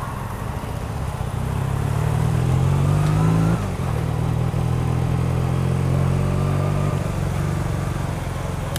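A 1985 Honda CB 450 Custom motorcycle being ridden, its engine a loud, steady low droning rumble that rises slightly in pitch as it revs, with continuous road and wind noise throughout.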